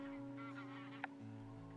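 Bar-headed geese and greylag geese feeding alongside cranes at Nalsarovar give a run of repeated nasal honks, fairly close, over a steady low background hum with no talking.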